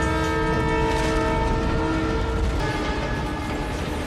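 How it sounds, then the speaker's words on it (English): A train from the 2001 film Fast & Furious thunders past at close range, its loud steady horn blaring over a continuous heavy rumble of rail cars for the whole stretch. "And then suddenly a train tears through and misses them by what feels like nothing."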